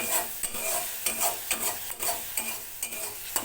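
Spice masala sautéing in a pan, a steady frying sizzle broken by repeated rhythmic scrapes of a spoon stirring, close and fairly loud with no voices.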